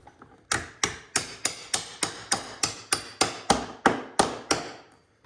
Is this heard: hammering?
yes